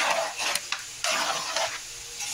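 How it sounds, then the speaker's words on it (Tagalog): Pork blood being stirred into a pot for Bicolana-style dinuguan, a spoon scraping and swishing in repeated strokes, close and fairly loud, with a faint sizzle-like hiss and no talking. "ilalagay ko muna yung dugo. And, imimix ko siya bago ko bubuksan yung apoy."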